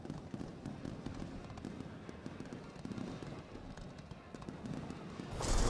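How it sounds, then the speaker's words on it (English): A fireworks show at a college football stadium during a rivalry game, heard as a continuous dense crackle of small distant pops under crowd noise, growing louder at the end. "Fireworks show going off in the background."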